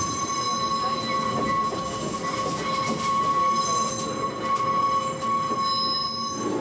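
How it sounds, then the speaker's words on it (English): A mountain train in Wakayama climbs a steep grade, its engine droning under a steady, high squeal and howl from the wheels, with faint rhythmic clacks beneath. "You can hear the noise of the engine and the wheels pushing this thing up the hill. It's that squealing, howling noise"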